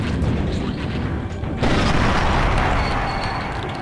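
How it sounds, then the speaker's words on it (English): A loud, rumbling burst of explosion with metallic crashing and debris in the video game Space Pirates and Zombies, rising suddenly midway and sustaining a dense roar. "Hear that metal sound?"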